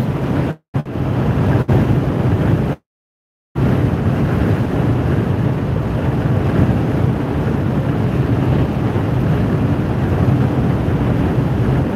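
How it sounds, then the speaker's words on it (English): Strong wind blowing across open South Dakota land near wind farms, a steady loud rushing roar buffeting the microphone, with a couple of brief dropouts and no talk. "this wind is kicking out here"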